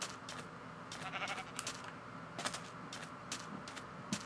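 Sheep in a video game bleat repeatedly in short, wavering calls, fairly faint and overlapping with game ambience, with no talk over them.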